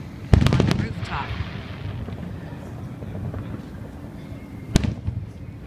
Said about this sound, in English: the hotel that we are staying at has fireworks from Disneyland